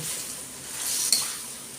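Wide rice noodles stir-fried with soy sauce sizzle steadily in a pan, with a single brief metallic scrape from a utensil partway through, close and alone.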